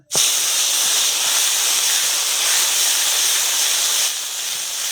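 Onion paste dropped into hot oil with whole garam masala and bay leaves, a sudden loud hiss that bursts in and holds as a strong steady sizzle, easing slightly toward the end.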